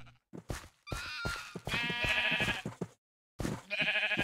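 Several sheep bleats from a blocky survival video game set in a lit-up Nether area, coming in short repeated bursts with brief silent gaps and no talk over them.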